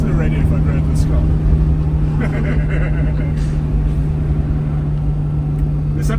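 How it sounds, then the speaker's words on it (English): A 1985 Mercedes-Benz W123 280E with a straight-six DOHC engine and automatic transmission drives along, its steady low engine drone heard from inside the cabin under loud road noise, with possible speech. "There's something about a straight 6, and particularly a double overhead cab."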